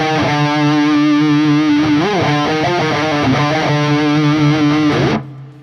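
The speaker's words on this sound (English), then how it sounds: "I'll play the same scale shape but up an octave higher." Distorted electric guitar runs a metal scale shape an octave above a low D root, held notes and quick bends over a droning low note, loud and close, ending with a sudden cutoff.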